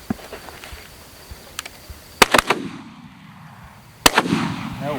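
Shotguns fire during a public-land dove hunt: a few faint distant pops, then two loud sharp blasts in quick succession that ring out, followed by another close shot with a lingering echo.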